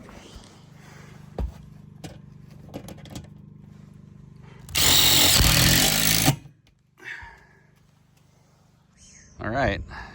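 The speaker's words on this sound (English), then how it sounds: "All right, we're screwing it down." A power drill drives 1/4-inch and 5/16 screws into the metal roof of an off-grid outhouse in Alaska, giving one loud, sustained whirring burst of about two seconds, with clicks, handling noises and brief talk around it.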